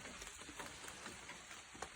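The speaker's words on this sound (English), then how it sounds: "it is still raining very hard, as you can hear." Heavy rain drumming outside a hunting box blind at night, a faint, dense steady patter with occasional louder drops, no one talking.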